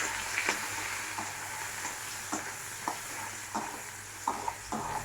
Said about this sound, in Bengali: এবার দিয়ে দেবো পেঁয়াজ কুচানো, একটা বড় পেঁয়াজ কুচানো।